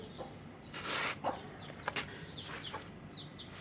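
A home-bred Aseel hen of the Chandri breed with a white beak gives soft, scattered clucks close by, short separate calls spread across a quiet background.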